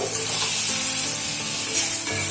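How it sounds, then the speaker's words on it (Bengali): Potatoes stir-fried with spices and a little water sizzle loudly and continuously in the pan, close by. "পাঁচ মিনিট মতো আলুটাকে মশলার সঙ্গে কষিয়ে নেব"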